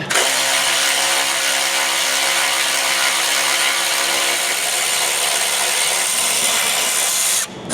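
A power tool runs continuously at full loud whine while removing the factory stabilizer bracket from a 2017-2022 Ford Super Duty, the harsh high-pitched buzz steady for about seven seconds before cutting off.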